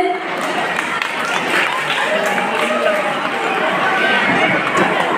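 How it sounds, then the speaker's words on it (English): Applause and crowd chatter at a school Independence Day celebration, a steady, dense wash of clapping and voices from a large audience filling the whole stretch. "Next for the teachers, I think you can give a round of applause."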